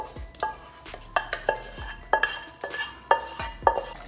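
Paste stirred into cooking onions and tomatoes in a pan for pav bhaji, a spoon scraping and knocking against the metal in a steady series of sharp clinks and scrapes, close and fairly quiet, with no talk.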